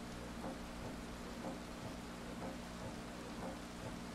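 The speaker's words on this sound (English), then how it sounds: "Oh, it's raining and it's night." Steady rain hissing during a night rally stage in the racing game Dirt Rally, a constant even wash of noise with a low engine hum beneath it.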